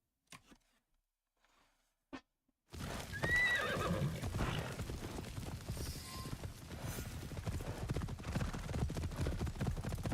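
A horse in Assassin's Creed Shadows whinnies sharply, then hooves clop steadily and close in a continuous rhythm, following a few quiet clicks.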